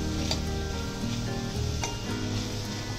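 Jaggery and chana dal sizzle in a hot pan, a steady close crackle with a few soft scraping stirs and faint metallic taps.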